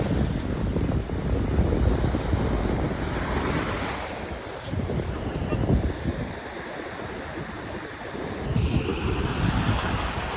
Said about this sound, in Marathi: अशा लाटा नाही भेटणार तुम्हाला.